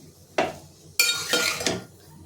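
Spinach bhaji with chopped coriander stirred in a pan, a spoon scraping and clinking against the metal in a few distinct strokes, close and fairly loud with no talking.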